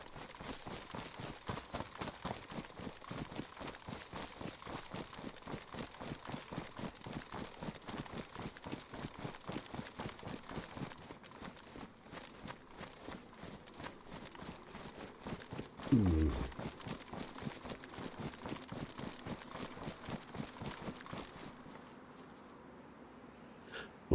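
A stag running in the survival game DayZ, its hooves drumming in a steady rapid clip-clop rhythm throughout, fairly close, with a brief louder thump midway and the patter fading at the end.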